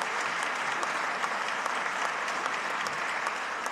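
Steady, dense applause from a large audience at the Rhode Island State of the State 2024 address, given in tribute to Steve Feinberg, sustained evenly at moderate loudness with no speech over it.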